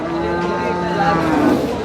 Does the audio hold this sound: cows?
yes